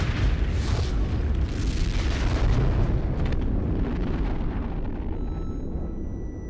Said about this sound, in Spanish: Sobrevivió a una detonación conocida como Apple II en mayo de